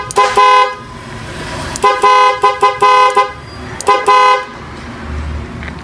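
A dual car horn honks loudly in a series of short blasts, a few bursts clustered together with brief gaps, then stops.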